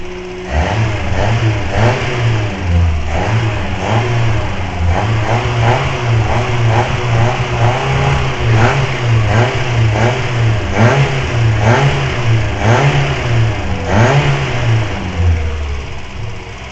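A loud car engine revs repeatedly during an engine-cleaning treatment, rising and falling in rhythmic surges over a constant rumbling idle, close up with no talking.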